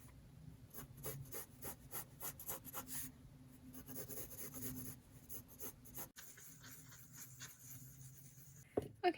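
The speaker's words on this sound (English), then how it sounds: "So now I'm going to get a little rough sketch of what I think I know about this thing." Pencil sketching a map on paper, soft scratchy strokes in quick bursts with short pauses, close and quiet, ending with a couple of louder taps.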